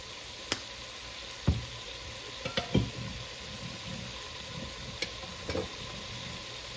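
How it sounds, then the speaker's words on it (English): Beef stew meat sears in a pot with a steady close sizzle and hiss, broken by occasional sharp clicks and stirring scrapes of a utensil. "Once you get all of your beef stew meat into your pot, go ahead and salt your meat."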